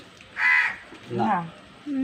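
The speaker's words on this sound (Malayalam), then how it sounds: "കാക്കയുണ്ട് പരിപാടിക്ക്" A crow caws once, loud and close, outdoors near a mango tree, then a voice speaks briefly before a low tone at the end.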